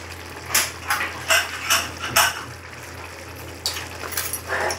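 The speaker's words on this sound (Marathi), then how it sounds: "आणि कुकरची शिट्टी लावून घ्यायची." A whistle weight is fitted onto a pressure cooker lid, giving a series of short, sharp metallic clicks and taps close by, spaced irregularly over a quiet background.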